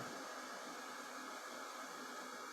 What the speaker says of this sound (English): Now I'm gonna take the heat gun, gently try to dry off what I just did